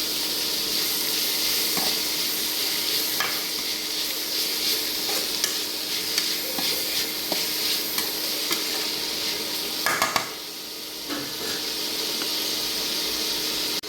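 Tomato fries in a pan for Marwai sukka, a clam dish, with a steady loud sizzle and the scrape of stirring running through it.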